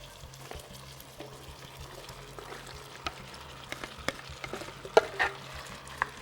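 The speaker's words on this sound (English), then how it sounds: "And then we have our large sweet onion that we're gonna add to it too." Sweet onion and sausage frying in a pan, a soft steady sizzle with scattered small crackles and a few sharper stirring scrapes near the end, fairly quiet and without talk.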